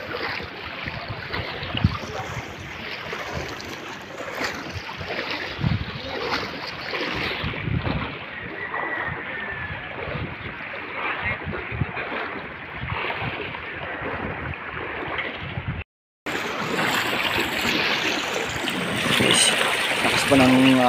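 Typhoon-driven floodwater in Cavite surges and churns with a rough, continuous roar of rushing waves, heavy wind buffeting the microphone up close, with a brief dropout before the noise resumes.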